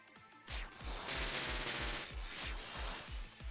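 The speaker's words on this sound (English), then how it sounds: "It's an interesting sound effect on Zap Cannon." Zap Cannon attack effect from Pokémon Reborn: a loud electronic burst of rapid, regular booming pulses, about a dozen thumps in quick succession under a crackling, buzzing electric sizzle, heard on its own.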